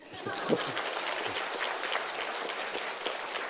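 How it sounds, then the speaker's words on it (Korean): An audience at a lecture gives a steady round of applause, a dense, even patter of clapping that holds throughout the brief moment. "박수 한번 쳐주세요"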